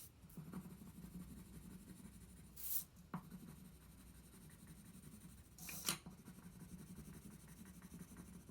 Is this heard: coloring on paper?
yes